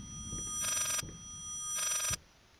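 A telephone in the Layers of Fear horror game rings in two bright electronic bursts separated by a pause, clear against a quiet low rumble.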